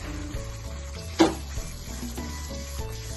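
Gentle stirring of a thick village-style small fish curry in a pan, a soft sizzle and bubbling with a brief scrape or knock near the middle, close and quiet.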